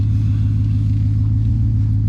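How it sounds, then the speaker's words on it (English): 2012 Dodge Charger R/T AWD engine with a front exhaust leak, a loud steady low rumble heard close up while driving, no talking. "this is loud because it has an exhaust leak in the front"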